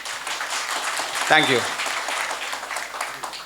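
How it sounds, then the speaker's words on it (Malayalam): An audience claps at a JCI Karassery installation ceremony in a hotel, a steady, moderately loud wash of many hands throughout, with a brief spoken thanks partway through. "ശരിക്കും പറഞ്ഞാൽ ഈ ഒരു കയ്യടി പോരാ"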